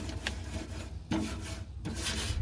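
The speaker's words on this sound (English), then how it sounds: "you can just go ahead and clean your grates a little bit." Tin foil scrubbed across the grill grates of a warmed-up Oklahoma Joe smoker makes a steady, close rasping, with repeated scraping strokes running throughout and no talking.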